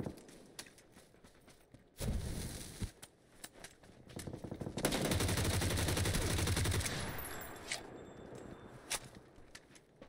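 Rapid automatic rifle fire in console PUBG, sharp repeated bursts at moderate distance with a long sustained spray in the middle, scattered single shots around it and faint background noise.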